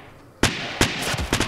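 Pistol and revolver shots in the Fortnite video game ring out as a handful of sharp, punchy cracks spaced unevenly over a second and a half, loud and close.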